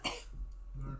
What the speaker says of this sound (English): You breathe it in, that's why you're coughing?